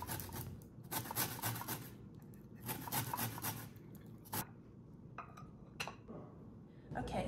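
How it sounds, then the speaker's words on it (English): Zest is rasped on a large grater for Italian Easter taralli dolci, in a series of scraping strokes with short pauses between them, heard close by in a quiet kitchen. "But for a bigger job, you can always use this kind of grater."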